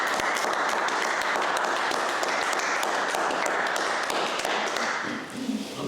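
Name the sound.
audience clapping after a talk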